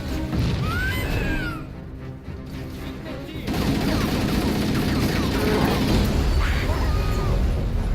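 Grenade blasts and rapid gunfire from Halo: Combat Evolved Anniversary, a loud crashing battle din with a brief lull in the middle before heavy explosions and shots resume.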